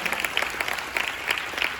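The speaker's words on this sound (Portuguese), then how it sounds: "Você pode aplaudir a Jesus por isso?" Church congregation clapping in a brief burst, many hands beating together in a lively, uneven patter, close and fairly loud.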